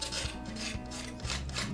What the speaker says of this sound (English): by just kind of scraping to clean some of the surfaces